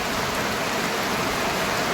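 Steady rain falls in a continuous, even hiss of moderate loudness, an unbroken wash with no talking or other sounds.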